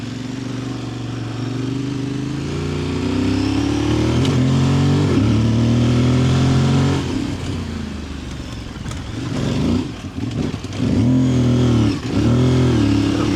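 A motorcycle engine revs and pulls through the gears while riding the Passo Dordona mountain pass, a loud steady drone that climbs in pitch, dips briefly at a missed shift, then surges again.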